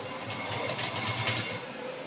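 A sewing machine stitching piping onto a blouse, a steady fast whirring run of needle strokes at moderate volume, heard alone for about two seconds.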